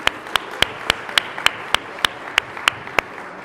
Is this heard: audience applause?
yes